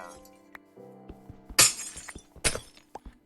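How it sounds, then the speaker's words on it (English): Glass blocks shattering in Minecraft, two sharp crashing bursts a second apart amid soft clicks and a low tonal hum, no talking. "it sounds like glass"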